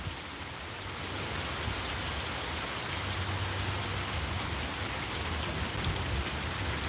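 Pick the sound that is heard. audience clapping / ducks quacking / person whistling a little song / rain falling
rain falling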